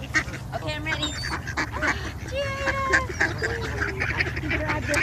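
Several geese honk repeatedly at close range, overlapping nasal calls over a low background rumble.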